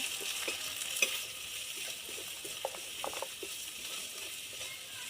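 Banana and potato curry with salt, turmeric and chili powder being stir-fried in a pan, a steady soft sizzle broken by scattered scrapes and taps of the spoon, fairly quiet and close, with no talking.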